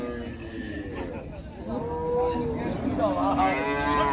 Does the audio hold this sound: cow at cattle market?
yes